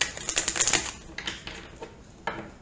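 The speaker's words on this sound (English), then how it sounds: "a couple more shuffles." Quick papery riffling and flutter of a tarot card deck being shuffled, a dense burst followed by a few lighter, scattered riffles close by.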